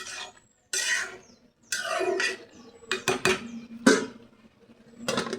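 Shrimp curry with tomatoes and green chilies being stirred in a pan, a spoon scraping and clinking against the metal in irregular bursts with short pauses between strokes, close and fairly clear, no talking.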